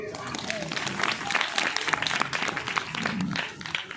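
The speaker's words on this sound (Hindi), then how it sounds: "एक बार ताली बजा दीजिए।" A church congregation claps during a Hindi Christmas sermon, the applause mixed in under ongoing voices and calls from the hall, fairly steady throughout.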